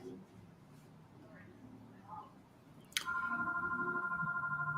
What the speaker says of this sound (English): I can never do a video without the damn phone ringing